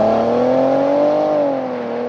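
A 2020 Maserati Quattroporte Gran Lusso accelerating hard from a standstill, its engine note a steady rising drone heard from inside the cabin, loud and continuous with no voices.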